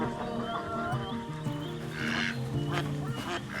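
Domestic duck honking and quacking in repeated nasal calls, close by, with other fowl sounds layered over a steady background.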